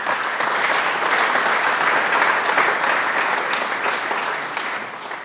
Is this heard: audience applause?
yes